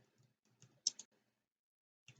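Computer keyboard typing, quiet and close, with a few short bursts of clicking keystrokes and a louder cluster near the middle, separated by gaps of near silence.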